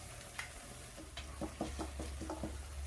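Ginger and garlic sautéing in a kadai for kadai paneer, a faint low sizzle with a cluster of light stirring clicks and scrapes in the middle.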